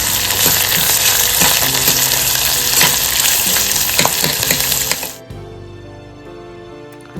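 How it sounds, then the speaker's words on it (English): Chopped onions crackle loudly in hot oil while a spoon scrapes and taps the pan in quick strokes, then the sizzle drops abruptly to a low simmer near the end. "Add the chopped forward onions. Give a quick stir."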